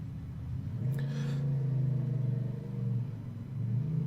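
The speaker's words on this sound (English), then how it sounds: "Well, that is a ridiculously loud motorbike." A low engine rumble swells and pulses as a motorbike revs nearby, loud and throaty, with no voices.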